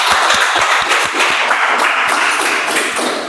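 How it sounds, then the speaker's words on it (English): A small group at a club meeting applauds, close and fairly loud, with hearty individual claps and low thumping taps cutting through a brisk, even wash of clapping. "Let's give a round of applause."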